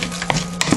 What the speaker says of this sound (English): drop that in there and stir that in